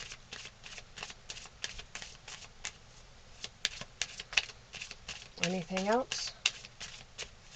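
Playing cards shuffled in a rapid run of crisp riffling flicks, then a card drawn with a short sliding rasp, and a voice speaks briefly.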